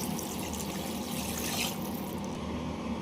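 Milk pours steadily into a pot of rice for jeera rice up close, a continuous trickling splash with a brief louder gurgle midway.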